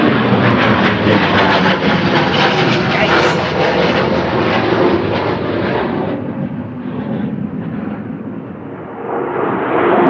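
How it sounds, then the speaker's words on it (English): A fighter jet passes overhead near Wilmington, a loud, broad roar that holds steady and then slowly fades as it moves on, with a voice heard briefly over it. "There's the fighter jet."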